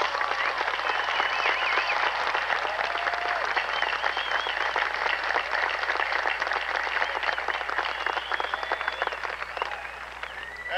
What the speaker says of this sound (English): Let's applaud the class of 1991.